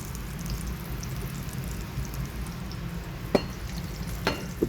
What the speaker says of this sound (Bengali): ডুবো তেলের বেগুন ভাজি।